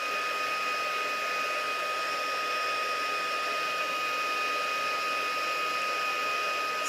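A heat tool blows a steady, loud whirring rush of hot air while heat-setting embossing powder, running continuously with an even fan whine and no pauses.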